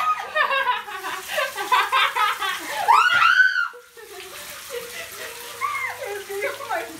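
A clogged toilet flushing in an apartment in Korea, water rushing steadily for several seconds while people talk and giggle close by over the flow.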